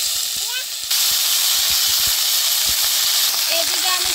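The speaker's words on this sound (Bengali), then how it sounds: "এখন আমি কলার মোচা দিয়ে দিব।" Chopped banana flower drops into hot mustard oil with whole cumin seeds, and a loud, broad, steady sizzle starts about a second in and holds until the end.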